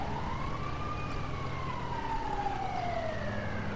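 An ambulance siren in the game GTA 5, running a firefighter rescue mod, wails in long, slow rising and falling sweeps, loud and steady, with no talk over it.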